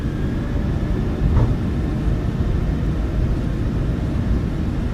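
A steady, loud broadband roar of airliner jet engines spooling up for takeoff from Dallas in Microsoft Flight Simulator 2024, holding an even, continuous rumble with no talk over it.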